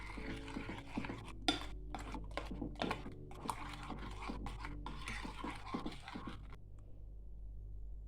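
A spoon scrapes and taps around a mixing bowl while stirring a beignet mixture, a close, continuous clatter of quick strokes over a steady low hum, fading out near the end with no talking.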